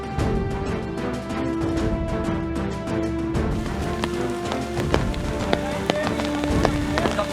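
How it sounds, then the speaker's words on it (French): Rain pours steadily during an outdoor adventure race, a dense loud patter across the whole stretch, with tonal sounds and scattered thumps mixed in. "la pluie vient corser un peu plus l'affaire"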